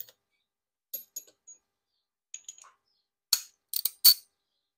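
A ratchet loosens a 10 mm bolt on the air filter box of a 2021 Chevrolet Equinox, with a few faint ticks early on, then a quick cluster of sharp, close metallic clicks near the end.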